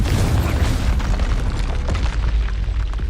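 A loud, sustained fiery blast from the Confringo spell in Hogwarts Legacy, a deep booming roar that fills the whole stretch without a break.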